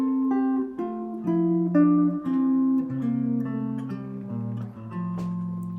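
Two melodic lines in improvised counterpoint, a stepwise scalar melody on top against arpeggiated figures below, played cleanly at moderate loudness with no talking.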